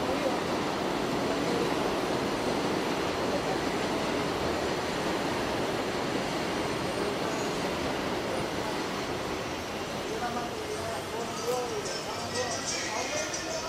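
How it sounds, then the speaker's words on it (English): A train passes in the Bronx, its broad continuous rumble and clatter running loud and steady throughout, with some higher rattling near the end. "Let that train, another damn train go."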